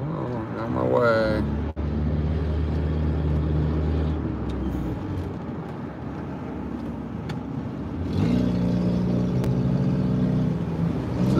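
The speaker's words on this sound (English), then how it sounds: "This is heavier than normal traffic." Cars drive through heavier than normal city traffic on a Las Vegas road, a steady engine hum and tyre rumble from a vehicle interior with a brief thump, the engine note rising as it pulls away near the end.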